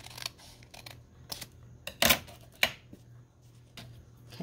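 Scissors snipping a botanical craft piece being trimmed to fit, a few short crisp cuts with small handling rustles between, close and fairly quiet.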